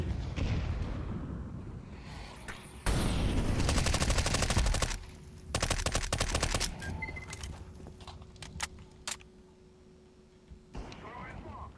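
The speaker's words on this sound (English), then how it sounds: "I throw a flashbang." Video game firefight with a thrown flashbang grenade: loud, dense bursts of rapid automatic gunfire come in long volleys, broken by shorter sharp shots and quieter gaps before a final burst near the end.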